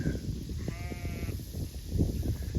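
Sheep bleating on a farm, a wavering call rising out of steady outdoor background noise and low rumble, with grazing sounds around it.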